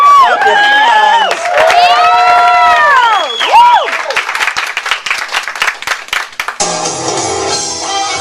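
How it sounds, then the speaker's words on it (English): An audience claps and cheers for the drag performer Miss Divine Grace, loud and close, with a sustained tonal voice or music over the first few seconds and steady clapping carrying through to the end. "Clap your hands."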